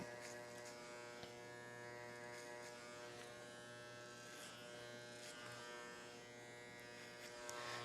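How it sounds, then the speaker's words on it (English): Electric hair clipper buzzing steadily through a men's short haircut, cutting clipper-over-comb, a close continuous hum with small shifts in pitch as it passes through the hair. "when we go back to clipper over comb, open your lever back up to put it in the longest position"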